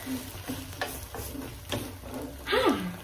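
An omelet cooking in a frying pan gives off a soft sizzle, broken by several scraping stirs and a louder utensil scrape near the end.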